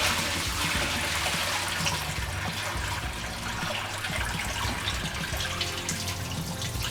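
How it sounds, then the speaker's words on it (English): Turkey brine of salt, water, pepper and seasonings being poured out of a container, a steady, loud rushing splash of water that runs continuously without a break. "I'm gonna dump out the water."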